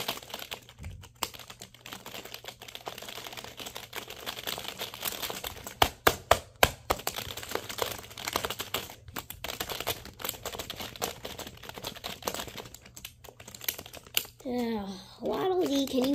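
Rapid, dense clatter of fingers hammering a computer keyboard, near and fairly loud, with a few sharper key smacks and a voice breaking in at the end.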